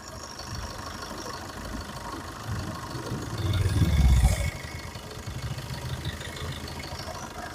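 A 2017 Maruti Brezza ZDi diesel engine idling, a steady low rumble heard close up that swells briefly as the engine revs slightly, then settles back to an even idle, with no talking.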